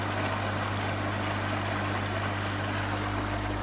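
A continuous, steady rushing boil of water rolls through the moving-bed media inside a barrel filter, an even close-up wash of bubbling over a faint low hum.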